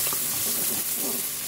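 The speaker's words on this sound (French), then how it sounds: "Je remue." Onion strips and smoked lardons frying in butter, stirred in a Cookeo pot, give a steady close sizzle with soft scraping, without any voice, for a short stretch.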